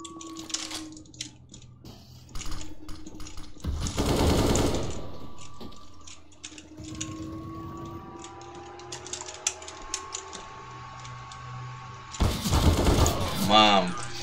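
Bursts of gunfire in the shooter CS:GO, a dense loud volley early on and another near the end, with scattered clicks and single shots between and someone talking through much of it.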